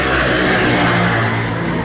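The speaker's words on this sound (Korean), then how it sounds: "차 소리도 너무 심한데?" A car engine drones loudly and steadily throughout, a dense, close, continuous rumble with no clear rise or fall and no talk over it.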